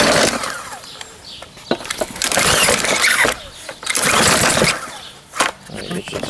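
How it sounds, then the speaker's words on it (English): A pressure washer's small engine being pulled over to start, repeated loud surging bursts of cranking and sputtering separated by brief lulls, close to the microphone, with some talk in the background. "Going to see if the pressure washer will start."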